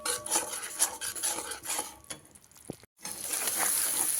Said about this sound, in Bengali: দিয়ে মশলাগুলো থেকে যতক্ষণ না তেল ছাড়বে ততক্ষণ সুন্দর করে মশলাটাকে কষাতে থাকবো।